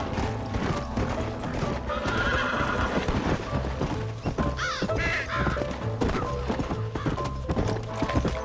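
Hooves clip-clop rapidly under a horse's neigh and whinny during a gallop in the Western video game Red Dead Redemption, with birds cawing and a voice briefly heard over the busy hoofbeats.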